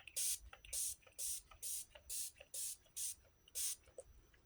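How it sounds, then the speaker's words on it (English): Ulta Beauty Moisture Primer face spray is spritzed in eight quick, evenly spaced hissing bursts, each crisp and close, with short quiet gaps between and no talking. "Now I'm going to set my face with the Ulta Beauty Moisture Primer."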